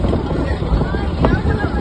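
Boat on the water during a family trip, a close rumbling engine drone with wind buffeting the microphone, steady and loud through the short moment.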